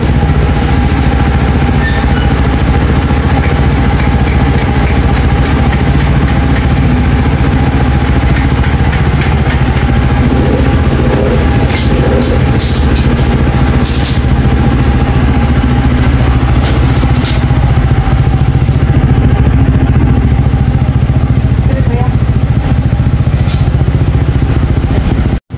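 A remapped Honda PCX160 scooter engine hums steadily and loudly throughout a road test, a continuous droning motor with faint clicks and rattles layered on top.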